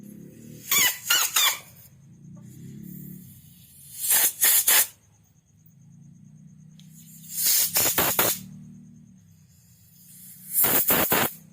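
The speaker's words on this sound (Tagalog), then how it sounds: "sprayan natin ng spray gun gamit ng compressor para matanggal yung mga dumi" Four short bursts of compressed air from a spray gun hiss sharply in quick clusters while cleaning the jets and ports of a Suzuki Smash 115 motorcycle carburetor, separated by pauses filled with a low, steady compressor hum.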